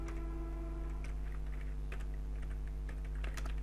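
Keys clatter on a computer keyboard in short bursts of soft taps over a steady low electrical hum, close and quiet.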